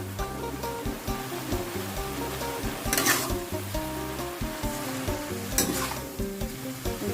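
Mixed vegetables and pork with scallions and red chili stir-frying in a hot pan: a steady, close sizzle runs throughout, broken by repeated stirring strokes, with a faint tonal hum in the background.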